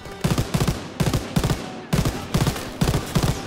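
Machine-gun fire in the Call of Duty WWII video game, heard as four loud, close bursts of rapid shots with short gaps between them.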